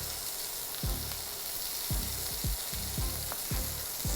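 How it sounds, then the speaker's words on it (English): Ground meat for a Big Mac sizzling and frying in a pan, a steady hiss broken by repeated scraping or stirring strokes at a roughly regular rhythm, close and fairly loud with no talking. "While the meat is cooking"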